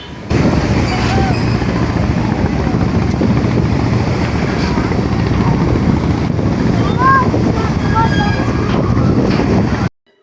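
A large passenger river launch on the Munshiganj–Dhaka route passes close by on the water, and its steady engine rumble and wash run as a loud, continuous roar under wind buffeting on the microphone, with a few faint bird calls.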